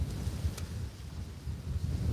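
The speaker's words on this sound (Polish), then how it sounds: "Jestem w ogóle ciekaw, czy ten wiatr słychać." Strong wind blows outdoors beside a fishing lake, producing a low, rumbling buffeting noise against the microphone that gusts and swells throughout without speech.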